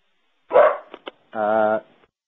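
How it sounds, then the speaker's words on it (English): A dog barks at a farm or plantation: a loud close bark, two short yips, then a longer drawn-out bark or whine, alone without talking. "I have a dog that barks at everybody who comes."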